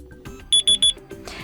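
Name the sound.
alarm clock melody on Doogee S Punk phone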